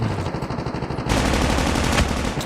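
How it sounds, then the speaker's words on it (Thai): Rapid automatic gunfire in a video game rattling in quick bursts, loud and close, growing denser and more continuous partway through. "เสียงปืนดังมากคุณผู้ชม"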